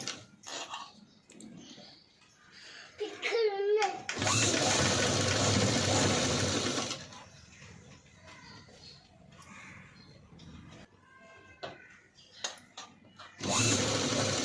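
A sewing machine double-stitching a padded blouse runs in a loud steady burst, then a second short run later, with someone talking in between.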